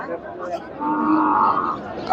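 A Friesian bull lows with one sustained, fairly loud moo at a cattle market, heard close and mostly alone with faint background noise.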